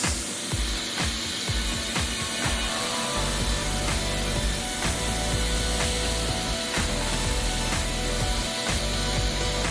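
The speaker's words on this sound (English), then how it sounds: "we cut out our first cut of 1/4-inch black acrylic" A laser cutter slicing through 1/4-inch black acrylic gives a steady, loud machine hum with a dense rumble, broken by regular ticking pulses, and no talk.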